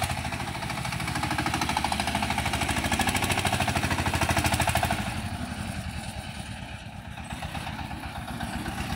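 Engine of a wheeled mini tractor cultivator running close by, a fast rattling, chugging putter that rises in level and then drops back to a slightly quieter steady clatter.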